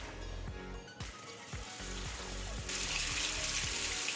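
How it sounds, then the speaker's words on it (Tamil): Fish pieces dropped into hot oil in a pan for a tawa fish fry, giving a steady close sizzle with crackling bursts that grows brighter and louder partway through, with no talking. "ஒரு பீஸா போட்டு பொரிச்சு எடுத்துக்கலாம்"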